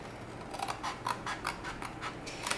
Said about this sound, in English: So you're just cutting your flaps for the bottom of the box.